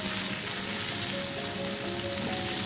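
Two medium onions frying in oil with black cumin and garlic, a loud continuous sizzle and crackle with light stirring underneath.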